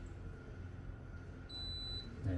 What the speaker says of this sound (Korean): 이렇게 알람 소리가 다시 한번 나고요